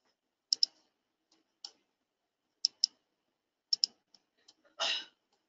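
Mouse buttons clicking while issuing commands in CAD software for machining detail drawings: sharp, quiet double and single clicks in irregular bursts, close to the mic, followed by a brief soft rustle at the end.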